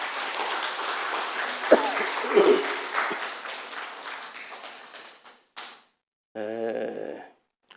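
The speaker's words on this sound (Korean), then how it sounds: "우리 교사들 수고하셨다고 박수 한번 해드립시다." A church congregation applauds its teachers during a Sunday morning worship service, a broad wash of clapping from many hands that fades and stops, followed by a short burst of a different, tonal sound after a gap of near silence.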